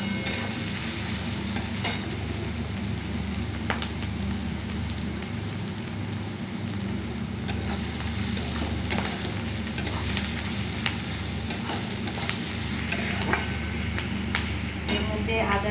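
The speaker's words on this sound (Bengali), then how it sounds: "পেঁয়াজটা খুব ভাজা হবে না, হালকা মতন ভাজা হলেই এটা হয়ে যাবে।" Onion fries lightly in a pan, giving a steady, close sizzle with scattered crackles and occasional stirring taps, heard alone without talk.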